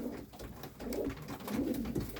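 A young pigeon coos at a countryside dacha, with a rhythmic series of soft, low cooing calls close by over faint background noise.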